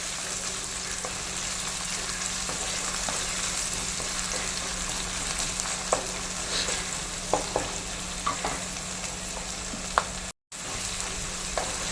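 Chopped shallots fry in hot oil with fenugreek, a continuous low sizzle under a faint hum, broken by intermittent spoon taps and stirring scrapes against the pan, with no talk and a brief dropout near the end.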